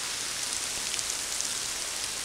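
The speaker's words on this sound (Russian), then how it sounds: "Полюбуйтесь, какой здесь сильный тропический дождь идет." Heavy tropical rain pours steadily, a dense, even hiss of drops striking surfaces nearby with no pauses and no voices.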